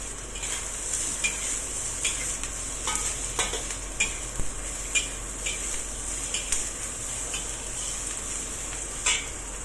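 Garlic, celery and fungus stir-frying in a pan for a Chinese-style lotus root dish, with steady sizzling and repeated scraping and clinking of a utensil against the pan, no talking.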